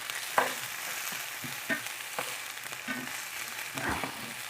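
Greens and pimento seeds stirred while frying in coconut oil in a pan, a steady sizzle under a few scraping spoon strokes, close and moderately quiet with no talk.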